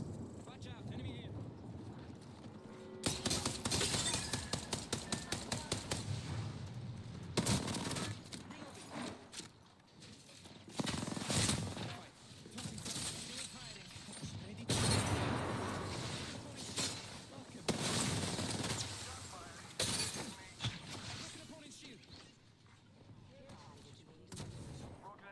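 Gunfire in Apex Legends, bursts of rapid automatic shots crackling in several volleys amid gusty game ambience, with a voice talking over the action.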